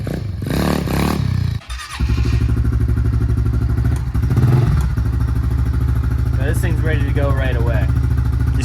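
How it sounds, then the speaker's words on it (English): A SSR125 pit bike engine warms up, running loud and steady with a constant low rumble, after a brief clattering start and a short dip; faint higher whine near the end. "He's just warming it up right now."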